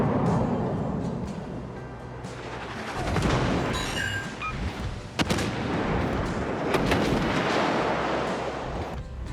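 Battleship main guns fire in the naval game World of Warships, deep booming salvos rolling over a constant rumbling engine and sea background, with several heavy blasts spaced a few seconds apart.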